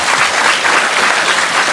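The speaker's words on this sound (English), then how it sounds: "I'm just saying I'm good and then you clap" An audience at a spiritual teaching talk claps steadily, a dense sustained wash of applause that holds loud and even throughout.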